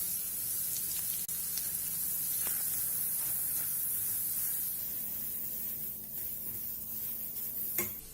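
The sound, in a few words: grated garlic and carrots sizzling in hot oil in pan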